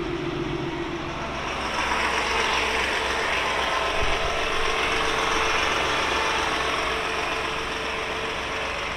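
A 1979 Scout II truck's engine runs steadily as it is driven slowly up ramps into a trailer, a close, even rumble with a small knock near the middle.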